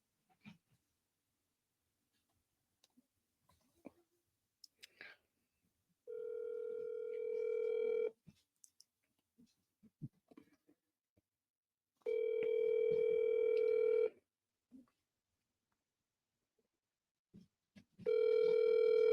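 An outgoing telephone call rings on the line, a steady tone sounding in three long bursts of about two seconds each, separated by quiet gaps with a few faint clicks.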